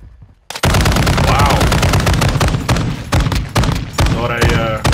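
After a brief quiet moment, loud rapid automatic gunfire erupts in an online shooter game, dense bursts hammering close and relentless with short gaps, while a player's voice rises briefly over the shooting.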